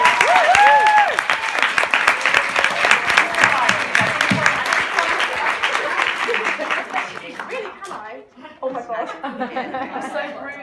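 A crowd bursts into loud applause, dense clapping that holds steady and then thins out near the end, with chuckles and chatter underneath.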